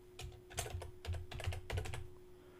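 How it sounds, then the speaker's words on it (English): Soft, rapid clacking of keys on a computer keyboard in short irregular bursts, close and quiet, with no one speaking. "I'm going to go ahead and delete this and type contact."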